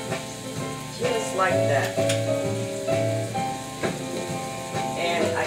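Steak sizzles steadily in olive oil in a hot pan, a loud crackling fry running the whole time with a brief voice speaking over it and a tonal hum in the background.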